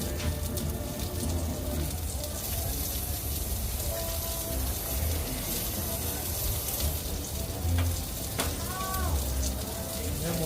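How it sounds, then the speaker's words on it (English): Pork chops sear in a hot pan with a loud, continuous hiss and crackle that holds steady throughout, while brief snatches of voice come through over the sizzle. "We'll get a good sear on them."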